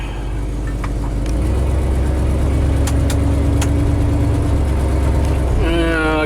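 A pickup truck with a Motorcraft 2100 carburetor drives around a corner, its steady engine drone loud and close throughout, with a brief rev or shift near the end.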